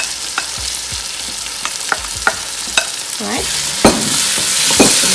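Green beans and chopped vegetables sizzle and fry in a pot for a home-style vegetarian biryani, with a spoon scraping and stirring at intervals over a steady, close hiss.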